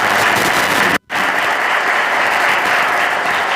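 Sustained, dense applause from a church assembly audience at an elder association general meeting, steady and loud with one brief cutout near the start, then continuing evenly.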